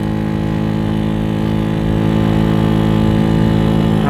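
A Venom X18 motorcycle engine with 1.5k clutch springs runs loud and close, a buzzing, steady drone that rises slightly in pitch and strength as it picks up speed.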